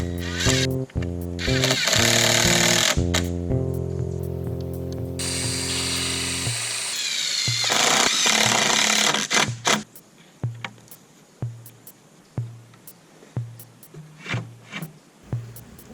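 A power drill drives screws into a wooden table, a loud motor whine with a strong tonal hum that rises and falls in short bursts, then gives way to softer intermittent mechanical clicks and knocks near the end.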